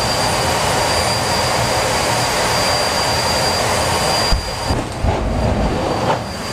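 A jet dragster's turbine engine, rated around 10,000 horsepower, roars loud and steady at a drag racing event, then a few sharp pops and bangs break through near the end.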